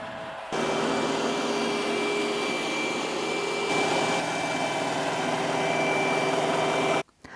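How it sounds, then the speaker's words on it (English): An iRobot Roomba j7+ robot vacuum motor starts up and runs steadily with a constant whine and hum, then cuts off abruptly near the end. "I'm just going to press the vacuum everywhere button"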